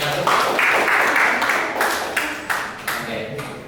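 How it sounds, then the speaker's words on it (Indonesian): Group applause from a classroom audience for the first discussion group, a dense wash of many hands clapping at moderate loudness that gradually thins out, with a few stronger claps near the end. "boleh tepuk tangan untuk kelompok"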